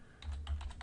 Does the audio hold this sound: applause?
no